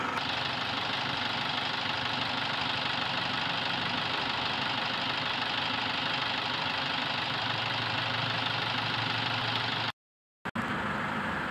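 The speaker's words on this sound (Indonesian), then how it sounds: "Suara mesin pasti akan menjadi lebih halus daripada sebelumnya" Toyota Innova diesel engine idling after a 4-in-1 tune-up, a steady, even rumble with a faint knock that holds for about ten seconds before cutting off briefly.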